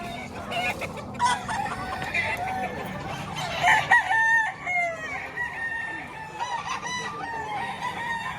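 Several stag gamecocks crowing and clucking nearby, repeated loud crows overlapping one another with softer clucks in between, while people talk faintly in the background.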